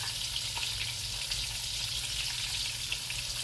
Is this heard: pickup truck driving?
no